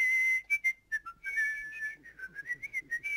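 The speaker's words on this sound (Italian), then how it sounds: "Era un fischio convenzionale, un fischio di richiamo, diciamo un fischio di famiglia." A human whistled family call signal, a lively sequence of short trilling and sliding whistle notes, clear and close, rising and falling in a quick rhythmic pattern for a few seconds.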